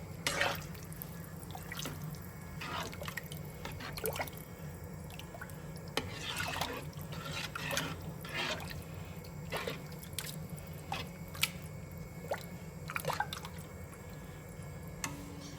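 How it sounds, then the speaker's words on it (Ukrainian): Ingredients for canned crucian carp in tomato sauce are stirred in a bowl, giving soft wet squelches and drips scattered irregularly over a low steady background hum. "Все це діло гарно перемішуємо."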